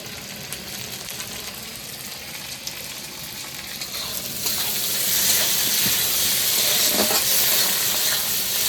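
Onions sizzle in a hot pan, a soft steady frying hiss that grows louder and brighter about halfway through as tomatoes go in, with a few light clinks of stirring and no talk.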